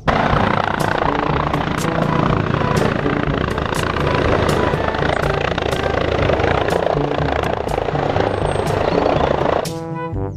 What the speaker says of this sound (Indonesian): Yang ini ada helikopter.